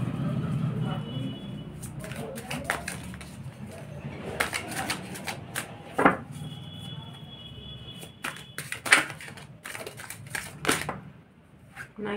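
Tarot cards are shuffled in a series of quick, crisp riffling bursts, some sharp and close, with quiet voices in between.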